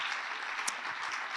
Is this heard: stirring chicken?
no